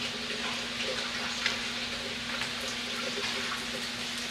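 Water pours steadily from the bypass line of a Tucker Rival Cart V2 water filter, a continuous splashing flow over a constant low hum.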